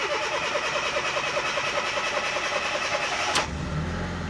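A Fiat Panda 4x4 Sisley engine with the choke half out cranks with a rhythmic starter churn, then catches and settles into a steady idle, heard up close.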